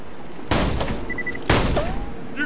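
Gunfire in Borderlands 2 rings out as two loud, close blasts about a second apart, each trailing into a brief echo, with small game effects between.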